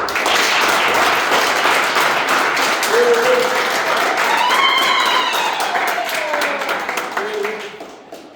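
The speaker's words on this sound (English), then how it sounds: "Can you please give yourself a big round of applause?" Audience at a blues championship event applauding: dense, steady clapping fills the room, with a voice calling out over it, and the applause fades away at the end.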